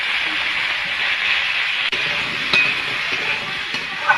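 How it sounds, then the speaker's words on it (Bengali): Kohlrabi frying in oil with salt and turmeric in a kadai, stirred: a steady, fairly loud hiss of sizzling with a few light spatula knocks against the pan. "নাড়াচাড়া করে নেব"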